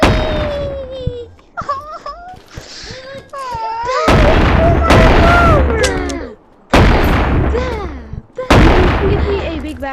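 Shotgun fire in the video game Animal Company comes as several loud, abrupt blasts spread across the clip, mixed with high-pitched, excited voices.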